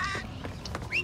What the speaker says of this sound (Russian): Опять ебучие попугаи.